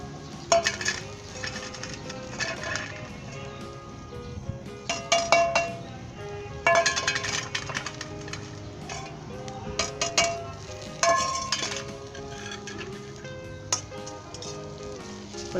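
Cumin seeds spluttering in hot oil with green chillies in a pan while cooking Punjabi kadhi, heard as scattered clinks of a metal spoon against the pan over a steady low sizzle, with occasional louder scraping bursts.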